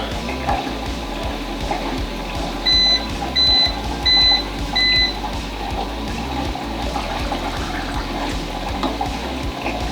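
Four evenly spaced electronic beeps from a film processor's timer mark the start of a colour film development run, sounding clearly over a steady background of running water and low hum.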